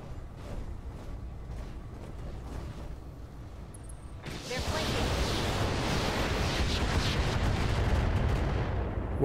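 Heavy gunfire in the video game Roguepoint starts abruptly partway through, a dense sustained barrage of shots and blasts following a quieter stretch of lighter shooting.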